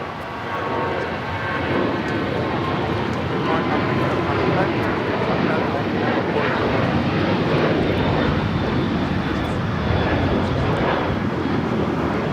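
An American Airlines Boeing 737-800 takes off from Los Angeles LAX bound for Phoenix, a loud, steady jet roar that fills the whole stretch at close range and holds constant without fading.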